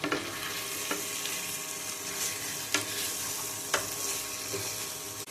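Spicy red mutton curry with papaya pieces sautés in its masala, a soft, steady frying sizzle with occasional sharp crackles and stirring scrapes, no voices.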